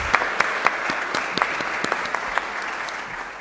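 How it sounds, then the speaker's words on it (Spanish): A student council session audience in Paraná applauds, a moderate wash of clapping with several crisp, close individual claps popping out irregularly, fairly steady and without any talk. "les pido un aplauso"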